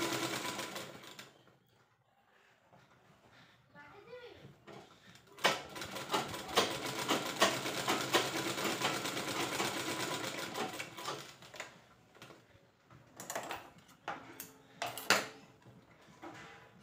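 A sewing machine runs in long bursts while stitching the seams of a readymade nightie, its steady needle clatter starting and stopping with brief pauses and small handling clicks between runs.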